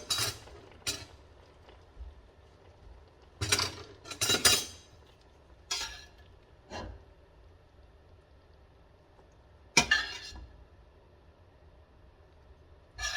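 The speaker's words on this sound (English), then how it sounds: "I be switching up on spoons because this non-stick pot, I don't want to mess it up with this stainless steel spoon." A spoon scraping and clinking against a non-stick pot holding a cheesy hamburger casserole, a few sharp separate clinks and scrapes spread out over a quiet kitchen background.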